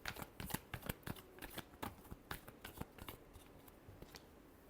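Tarot cards are shuffled by hand in a quick run of soft riffling flicks and taps, close and quiet, with no talking.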